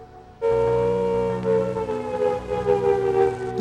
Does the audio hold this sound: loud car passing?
no